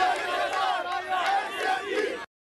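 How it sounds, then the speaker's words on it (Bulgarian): A crowd of Palestinians cheers and shouts in news footage as hostages are handed over to the Red Cross, loud overlapping voices that cut off abruptly. "Чуват се аплодисменти на палестинци."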